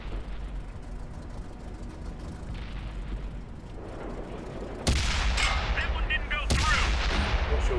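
Tank cannon fire booms out during a World of Tanks battle: two loud, sharp blasts with ringing decay break over a steady rumble of engines and battle noise.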